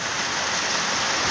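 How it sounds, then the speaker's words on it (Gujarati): Heavy rain pours down in a village, a dense, even roar of falling water close by, steady and unbroken across the short stretch with no voices. "આમ જોવો ફૂલ વરસાદ આવ્યો"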